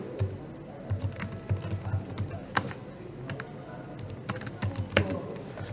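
Keys tapped on a computer keyboard while an address is typed in, a run of quick, close, irregular clicks that bunch into bursts, with a few louder strokes standing out and a low steady hum underneath.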